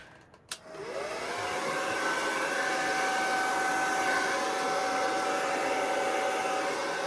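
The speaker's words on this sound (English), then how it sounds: "I'm going to put my blow dryer on cool, and I'm going to go on low" Blow dryer running on its cool, low setting during a paint pour, a steady close whooshing hum with a faint whine that starts with a click and continues alone.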